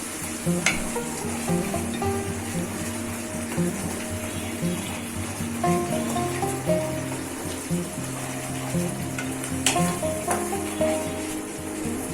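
Ginger, garlic and green chilli paste frying with onions in a hot pan for masoori chicken, a steady close sizzle broken by rhythmic scraping and clinking of a stirring spoon, with no talking.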